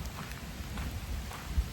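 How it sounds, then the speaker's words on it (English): Rain falls steadily at a home during a long-awaited downpour, a faint, even patter with low rumbling underneath and no one speaking. "I'm really enjoying the rain"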